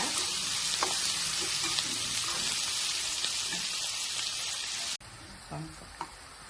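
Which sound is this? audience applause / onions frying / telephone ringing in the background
onions frying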